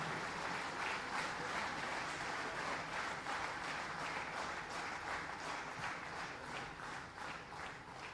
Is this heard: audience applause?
yes